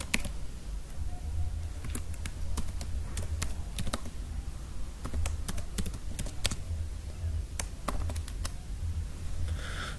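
A command is typed on a computer keyboard to delete a folder in Windows, with quick irregular key clicks and occasional bursts of keystrokes over a low steady hum.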